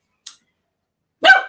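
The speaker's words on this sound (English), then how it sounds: "pardon the dogs barking." Dogs bark indoors at a distance: a short faint yip, a pause of silence, then one louder full bark.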